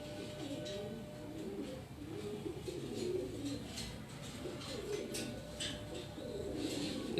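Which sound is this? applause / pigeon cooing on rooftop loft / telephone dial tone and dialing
pigeon cooing on rooftop loft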